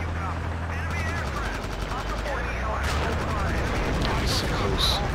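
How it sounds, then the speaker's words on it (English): A military helicopter in the video game Battlefield 2, its steady low rotor drone running throughout at close range, thickly mixed with rapid bursts of gunfire and battlefield noise. "Distract the chopper enough."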